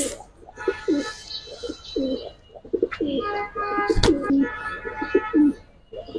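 Pigeons at a seller's loft coo in repeated throaty phrases close by, with overlapping calls and a brief sharp click midway.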